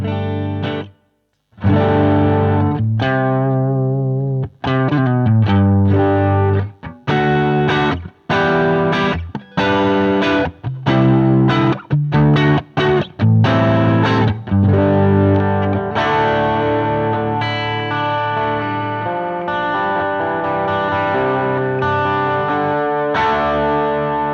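Overdriven electric guitar plays chords and single notes through a Fender Deluxe Reverb tube amplifier, with a warm, crunchy tone and a long sustained ring at the end.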